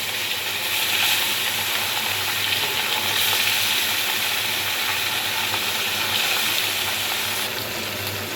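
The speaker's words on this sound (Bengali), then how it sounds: "এবার এক এক করে সব মাছগুলো তেলের ভিতরে দিয়ে দেব।" Desi baila fish fry in hot mustard oil with a continuous loud sizzle and crackle that stays strong and even the whole time, and nobody speaks.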